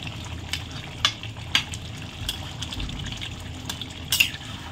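Chicken kosha cooking in a pot, with a steady low simmering sizzle and occasional scrapes and clinks of a spoon stirring against the metal. No one speaks.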